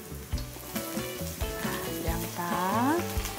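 Chili, garlic, onion and cabbage stir-fry in hot oil with a steady, close sizzle and occasional stirring clatter, while a tonal, musical layer runs underneath.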